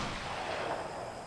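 A gunshot from an Italian Vetterli carbine rifle fired outdoors, heard as one loud, broadband report with a lingering rumbling tail across the clip.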